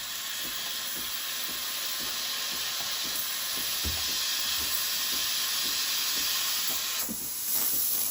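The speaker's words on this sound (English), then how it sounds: "I'll turn on the steam. I'll fill my milk jug." Steam wand on a Breville Barista Express Impress BES876SST espresso machine steaming cold full cream milk in a jug, a close, loud, steady hiss lasting throughout with a slight shift in tone near the end.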